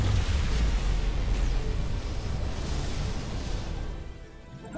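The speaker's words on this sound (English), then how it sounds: "Whoa! Dilithium explosion." A dilithium crystal explosion in the Star Trek: Resurgence video game, a loud, dense booming blast with a sustained roaring rumble that slowly fades over several seconds.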